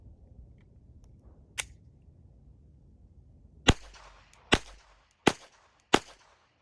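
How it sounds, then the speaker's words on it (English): A pistol fires and suffers failure-to-eject malfunctions. One sharp, close shot is followed after a pause by four more cracks at irregular intervals of under a second, with faint handling noise between them. "Failure to eject, so the slide's not coming back far enough on these guys."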